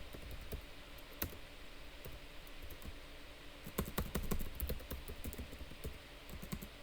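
Keys clatter on a computer keyboard as a command is entered in a terminal: scattered single taps, then a quick dense run of keystrokes mid-way, close and moderately quiet over a steady background hum.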